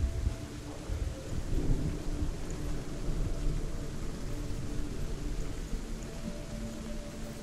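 A thunder and lightning storm in the video game Hellblade: Senua's Sacrifice rumbles steadily, with dense rain and wind filling the scene and low thunder rolling underneath throughout.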